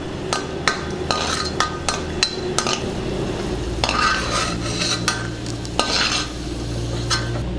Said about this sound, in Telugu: ఈ జీడిపప్పుని బాగా దోరగా వేయించుకుందాం